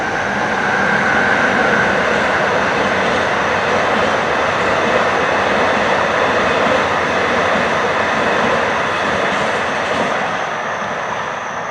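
A train passes nearby as a steady, loud rushing rumble of rail cars that holds for about twelve seconds, with no talking over it.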